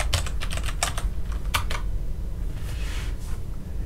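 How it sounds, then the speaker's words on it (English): Keys clack on a computer keyboard in a quick run of close, crisp taps over steady low room hum, then the keystrokes slow and fade. "I'm going to type localhost."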